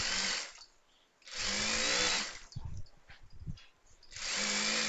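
Electric sewing machine stitching an inskirt during a height alteration, loud close whirring bursts at the start, middle and end, with quieter gaps and brief stop-start sounds between.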